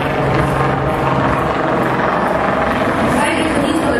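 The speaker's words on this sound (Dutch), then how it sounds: "Wij liggen niet van de wendbare en snelle helikopter van de Koninklijke Marine" Royal Netherlands Navy helicopter flying a demonstration at a harbour event in Rotterdam, a loud, steady rotor and engine roar filling the whole stretch, with crowd or commentary noise faintly beneath.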